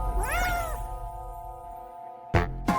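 A cat meows in a video game: a single drawn-out, rising-and-falling meow up front, followed after a quiet stretch by two short, sharp bursts of sound.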